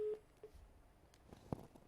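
A short telephone busy tone blips at the start after a dropped call on a TV phone-in show, followed by faint background noise and a brief soft knock.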